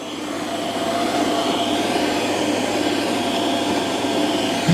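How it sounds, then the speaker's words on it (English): A Eufy robot vacuum cleans carpet in a room corner with its mop pads lifted, giving a steady, fairly loud whooshing motor hum that holds evenly throughout with no talking. "the mop pads are lifted and it's vacuuming carpet"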